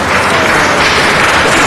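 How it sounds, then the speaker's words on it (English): Brief round of applause at a city council meeting, a short burst of clapping from the room that holds at a steady level throughout. "let's give Dina a round of applause."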